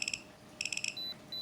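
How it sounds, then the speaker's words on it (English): Alarm on a DC 300V 100A digital battery capacity tester, sounding in quick bursts of rapid electronic beeps followed by steadier sustained tones, close and moderately loud with no talk. "So right now if I go below 9 volts, our alarm comes on."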